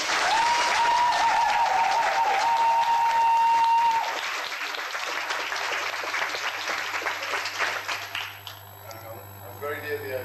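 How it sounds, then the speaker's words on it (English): A wedding reception crowd gives a round of applause during a best man's speech, with loud, dense clapping that fades after about four seconds into scattered claps and murmuring. "Can we have a round of applause?"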